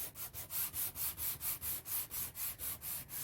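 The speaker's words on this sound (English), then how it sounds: "sand with the grain of the wood" Hand sanding an antique wooden curio shelf with fine sandpaper along the grain, a steady rhythmic rasp of about a dozen even back-and-forth strokes, close and alone.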